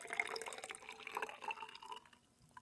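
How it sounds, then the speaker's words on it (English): Water poured into a flask to dilute a lab solution toward the 50 mark, a close trickling splash with bright dripping tones that fades out after about two seconds. "So I'm going to take some water and fill up till I get about close to 50 to dilute it."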